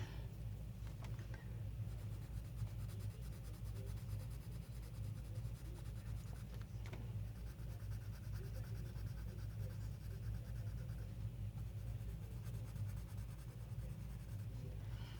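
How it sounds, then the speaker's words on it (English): Prismacolor colored pencils, including a blender pencil, scribbling and rubbing across paper in an adult coloring book, a steady, faint scratchy texture that runs continuously under a low background rumble. "And to blend it all together, I'm using my blender pencil."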